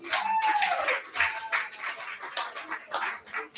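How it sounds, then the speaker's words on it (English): A trivia-night crowd at Avanti Boulder claps for the restaurant staff, a dense, steady patter of many hands that rises and falls over a few seconds, with faint voices mixed in. "how about a round of applause for your staff"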